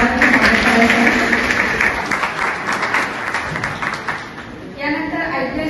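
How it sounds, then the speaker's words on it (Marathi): An audience claps at a college welcome ceremony for first-year BA and BCom students. The applause is steady and fairly loud throughout, with a voice talking over it. "सगळ्यांनी टाळ्या वाजवा"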